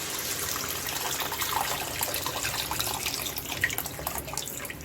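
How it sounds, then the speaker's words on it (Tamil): Tamarind water pours steadily into a pot of okra curry with a continuous splashing rush for several seconds, close and fairly loud, with no talking. "இந்த ஸ்டேஜில் நம்ம புளி தண்ணி ஆட் பண்ணிக்கலாம்"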